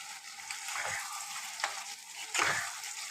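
Paneer fries with spices in a kadai, giving a bright, continuous sizzle close by, with a few stirring scrapes spaced about a second apart.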